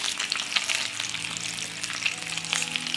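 Bacon frying in melted lard in a pan, a dense continuous crackling sizzle with bright pops scattered throughout, close and fairly loud, with no voices.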